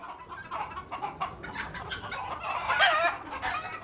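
Hens clucking and a rooster calling on a farm where goats are also kept, several birds chattering in irregular bursts at moderate distance with no talking.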